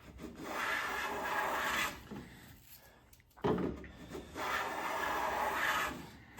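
A Wood River 5 1/2 jack plane runs over a thin piece of oak, giving long, steady rasping strokes with a short pause between passes, close and fairly loud with no talking.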